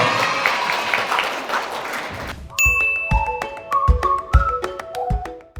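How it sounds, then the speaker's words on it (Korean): A conference audience in Daegu claps through the opening seconds, a dense rustling patter under a voice, before a run of clear ringing chime tones takes over alone. "박수 한번 주시죠"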